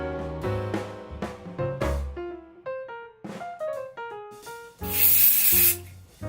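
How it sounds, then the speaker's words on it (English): Hairspray mists over styled victory-roll hair in a single short, bright hiss lasting about a second, heard over pitched background music. "Finishing with a bit of hairspray and just smoothing everything up."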